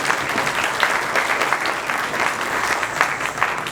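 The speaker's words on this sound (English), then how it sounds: "Please give everyone another huge applause." Steady, dense applause from an audience at a Kathak dance showcase, sustained and fairly loud throughout with no pauses.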